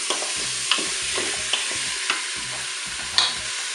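Hot oil sizzles in a pan with a constant hiss, broken by several sharp taps and clinks of a utensil against the pan.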